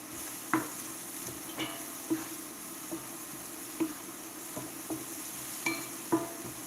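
Onions frying in a hot pan for steak fried rice, with a steady soft sizzle beneath repeated light scrapes and taps of a utensil stirring them.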